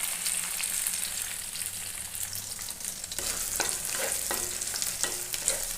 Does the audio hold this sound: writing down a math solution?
no